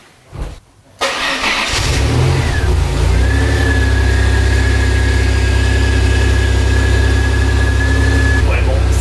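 A Maserati Biturbo engine starts after a short quiet moment, then settles into a loud, steady idle heard up close, with a high whine running over the low rumble.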